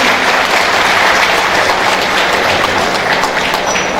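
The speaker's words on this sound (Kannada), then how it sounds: "ಆ ಯಮ್ಮನಿಗೆಲ್ಲರೂ ಒಂದು ಚಪ್ಪಾಳೆ ಹೊಡಿಬೇಕಲ್ವ?" Audience at a Women's Day gathering of a Karnataka human rights group applauding a woman, a loud, steady roar of many clapping hands that fills the whole stretch.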